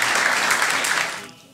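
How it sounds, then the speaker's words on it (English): Audience applause at an evening event at a surfing heritage and cultural center, a dense, steady wash of clapping from a crowd that fades out toward the end. "If we could give them all a round of applause"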